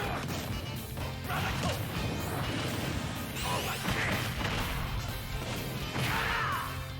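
Terry's Final Smash in Super Smash Bros. Ultimate bursts out as a dense, loud barrage of crashing impacts and whooshing swipes, sustained without pause throughout, with faint voices buried underneath.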